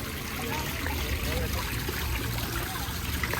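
A garden fountain at a flower and garden festival trickles and splashes in a continuous, even wash of water, fairly close, with faint background crowd murmur.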